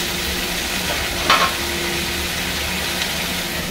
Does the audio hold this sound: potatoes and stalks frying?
yes